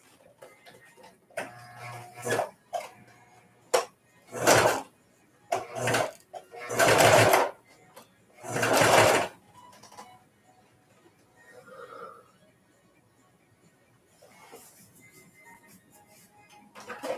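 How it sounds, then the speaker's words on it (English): Sewing machine stitching leather for a boutique Stetson hat, running in several loud bursts of a second or two with short pauses between, then quieter stretches of faint handling noise. "It's getting harder to sew"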